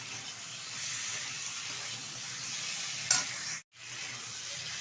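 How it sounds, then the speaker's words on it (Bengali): A spice paste for pabda fish curry sizzles steadily in oil while being stirred, a continuous close hiss with a brief clatter near the end and a momentary cut before the frying resumes. "বেশ কিছুক্ষণ সময় নিয়ে আমি মশলাটা কষিয়ে নিয়েছি আর মশলা থেকে কিন্তু তেল ছাড়া শুরু হয়ে গেছে"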